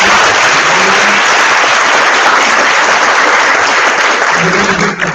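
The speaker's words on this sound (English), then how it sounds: "let's give Stacy and Andy a huge round of applause" A loud, dense round of applause from an audience for two panel speakers at a tech-careers event, a continuous roar of many hands clapping for the whole stretch.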